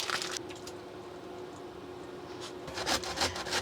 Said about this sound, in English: Now we'll just grate up 2 cups of cauliflower.